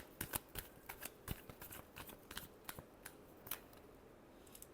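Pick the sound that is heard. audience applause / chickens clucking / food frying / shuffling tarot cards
shuffling tarot cards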